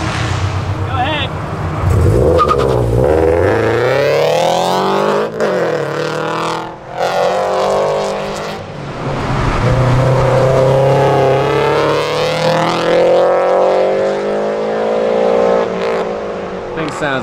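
A race car engine revs hard at an autocross event, loud and close throughout, its pitch sweeping up and down continuously with aggressive revving.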